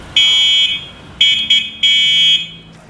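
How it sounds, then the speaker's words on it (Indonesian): An electric bicycle's electronic horn, on a Prostreet Cupcake, beeps in three bursts, a shrill, steady high-pitched tone, the last held longest, with brief pauses between. "Lalu terakhir di bagian bawahnya ini ada klakson yang kurang lebih suaranya seperti ini."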